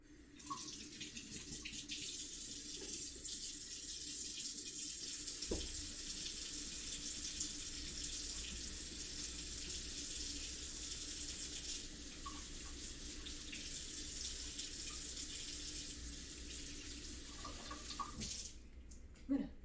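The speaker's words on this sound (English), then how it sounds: "I'm gonna wash my hands because onion is toxic to doggies" Kitchen tap runs steadily for hand washing after chopping onion, a continuous close hiss of flowing water with faint splashes and a few small clunks, shutting off near the end.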